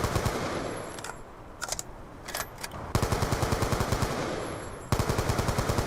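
Full-auto AN-94 rifle fire in a video game, loud rapid bursts of evenly spaced shots with brief pauses and a few separate cracks between them, close and dominant with no talking.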